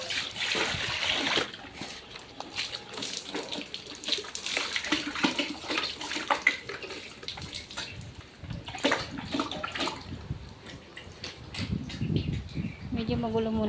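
Water splashes and pours steadily over Molly, a pet pig being bathed outdoors with chickens nearby, while a person talks throughout.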